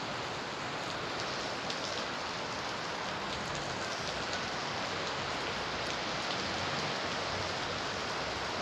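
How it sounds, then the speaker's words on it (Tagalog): Dense, heavy evening rain pours steadily on a street in Santa Cruz, Manila, a thick unbroken hiss of drops striking surfaces all around. "grabe yung lakas ng ulan ngayong alas 7 alas 7 ng gabi"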